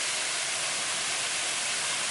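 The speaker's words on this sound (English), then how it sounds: "we come to the top of the waterfall, series of cascades" Steady broadband rush of small water cascades at the top of Isabella Falls, close and continuous with no voices.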